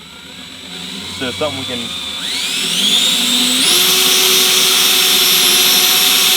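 Power drill boring a hole in a wooden corn hole board, its whine rising in pitch and then holding loud and steady, with a brief voice speaking just before.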